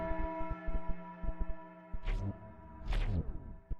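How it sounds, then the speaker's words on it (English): A ritual bell rings in the video game Lucifer Within Us, a couple of resonant tolls with long ringing overtones over a steady droning tone and soft rhythmic tapping. "As I heard the ritual bell ring for the second time"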